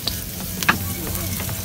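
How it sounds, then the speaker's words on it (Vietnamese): Garlic and lemongrass sizzle briefly in hot oil in a pot, a soft steady frying hiss with a quick stirring clink in the middle. "Giờ mình cho miếng dầu vô rồi mình khử cái tỏi với xả ra."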